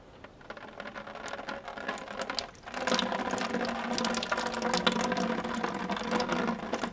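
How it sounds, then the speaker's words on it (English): Fluid draining out of a part on a 1975 Moto Guzzi motorcycle being revived, a steady close patter and trickle that swells into a fuller stream partway through, with faint metallic ticks and no talk. "Let's drain it out and see what comes out."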